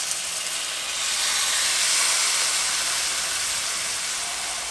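Chicken stock goes into a hot pot of potatoes and jalapenos for a one-pot chicken and rice dish, giving a bright, continuous hiss and sizzle that swells in the middle, then eases slightly.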